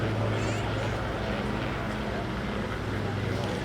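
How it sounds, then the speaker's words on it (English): Two Curtiss P-40 Warhawks with liquid-cooled Allison V12 engines fly over Washington D.C. during a World War II aircraft flyover, a steady broad engine roar running beneath an announcer's voice. "Directly to our left, the 2 Curtiss P-40 Warhawks with Allison V12 engines in them"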